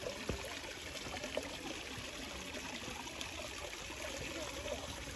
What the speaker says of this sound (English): The stream that the bottom waterfall comes from here.